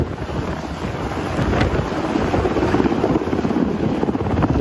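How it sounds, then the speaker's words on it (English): A helicopter passes low overhead, its heavy rotor wash and thumping roar mixed with loud wind buffeting the microphone and rising toward the end. "One right over his head! Oh my goodness. It's getting rotor wash."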